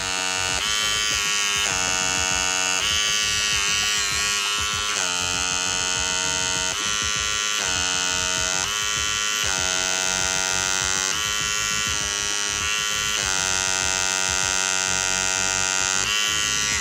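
Small electric pimple and blackhead removal device running steadily, a constant close buzzing hum with slight shifts in pitch as it presses against skin, with no talk over it.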